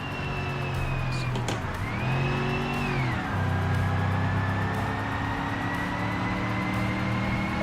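A Crown Victoria police car in a driving video game, its engine revving loud and close, pitch climbing and dipping with gear changes before settling into a steady high drone.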